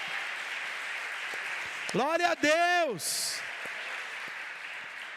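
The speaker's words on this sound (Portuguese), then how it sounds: "Pode aplaudir ao Senhor." A church congregation at a prophetic conference in Portugal applauds with a steady wash of clapping, and a voice calls out over it midway.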